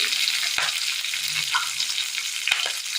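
Fennel seeds, a pinch of mustard seeds and ginger fry in hot oil with a steady, close, bright sizzle, broken by a couple of sharp spoon taps as the mix is stirred.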